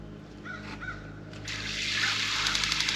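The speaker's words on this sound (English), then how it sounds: "you will hear the propane start and the heater" A BougeRV propane camp shower water heater starts up outdoors: a quiet ambient hush with a few crow caws early on, then a sudden broadband rush of burner and flowing water that holds steady with small ticking clicks.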